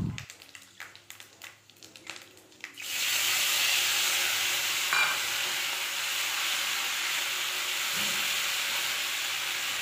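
Whole spices such as fennel and fenugreek fry in oil in a pan for a fish-head curry: a few clicks and handling noises first, then a loud, steady hissing sizzle that continues to the end.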